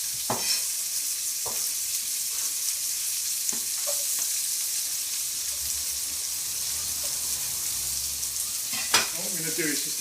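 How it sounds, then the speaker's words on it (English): Onion frying in leftover chorizo oil in a pan, a steady close sizzle with occasional stirring clicks and scrapes throughout. "into the oil is going to go my onion"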